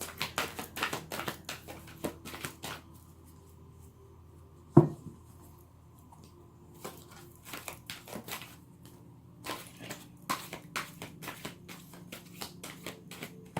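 Oracle cards shuffled by hand close up: a run of dry, papery riffles and soft taps, quieter in the middle with one sharp knock, then busy again. No one speaks.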